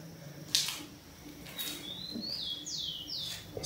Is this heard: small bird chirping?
yes